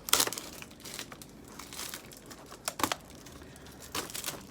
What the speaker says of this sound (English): Let me just take it out of the plastic because I'm getting a lot of glare.